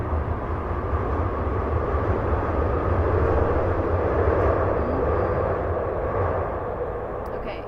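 A passing train rumbles steadily outside a home, a continuous low roar that holds for several seconds before easing slightly at the end.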